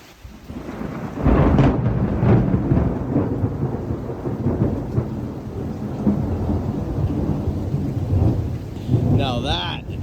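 Thunder from a cloud-to-ground lightning strike in a southern Ontario storm rumbles loudly and at length over steady rain, with a second swell of rumble near the end.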